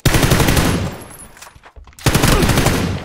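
Loud bursts of automatic gunfire from an AK-style rifle in a video game, rapid rattling volleys that stop briefly mid-clip before a second sustained burst resumes.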